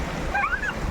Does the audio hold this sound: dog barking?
no